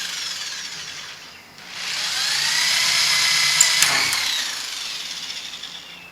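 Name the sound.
electric drill with 1/8 bit drilling into kayak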